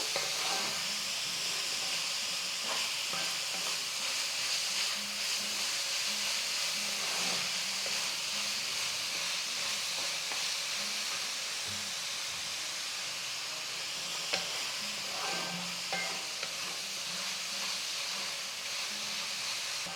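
Onions sauté in a pan with a continuous hissing, steamy sizzle, moderately quiet and close, with faint scraping stirs scattered throughout.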